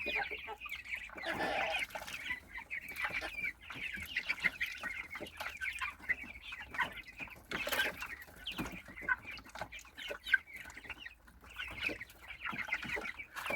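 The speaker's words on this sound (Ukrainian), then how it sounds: "Ось такі каченятка." Soft, high-pitched peeping and chirping from several Muscovy ducklings, continuous and overlapping, fairly close with faint background noise.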